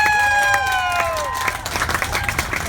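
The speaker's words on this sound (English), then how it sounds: "how about a big round of applause for the recording artists" Crowd applause and cheering at a Hollywood Walk of Fame star ceremony, a dense wash of clapping that swells and rolls on steadily for a few seconds, with a crowd audible behind it.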